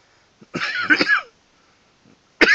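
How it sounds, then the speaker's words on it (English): A person getting over a cough lets out a harsh, close cough burst followed by a second short cough after a brief silence. "I'm just getting over a bit of a cough at the moment."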